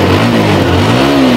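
A TVS Stryker motorcycle engine, with a weak battery, revs up loudly and close, its pitch dipping and then rising again in one continuous roar.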